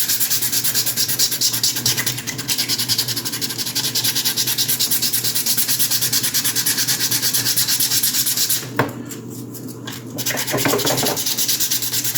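Hand sanding a 1/3-scale Juggernaut resin model with a small piece of 60 grit sandpaper: steady, close, rasping strokes that run continuously, with a brief pause near the end before the rubbing resumes.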